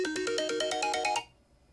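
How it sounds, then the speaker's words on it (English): A phone reminder alert rings out as a bright, rapid chiming melody of about ten quick tones. It is loud and alone, then cuts off abruptly into near silence. "That was my phone."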